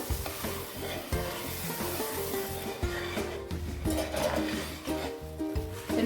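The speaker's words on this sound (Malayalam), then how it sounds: "മിക്സ് ആവുന്ന രീതിയിൽ ഒന്ന് ഇളക്കി കൊടുക്കാം" Puffed rice being stirred with cardamom powder in a pot for Kerala pori unda sweet balls, a steady run of dry scraping and rustling strokes up close, with a low hum beneath and no voices.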